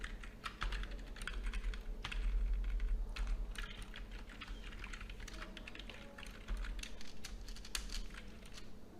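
Code being typed on a computer keyboard: rapid, continuous key clicks with short pauses, close and fairly quiet, over a low steady hum.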